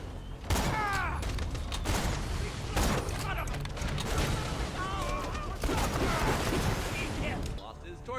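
Video-game gunfire crackles in dense, sustained bursts over constant game noise, with voices talking over the action throughout.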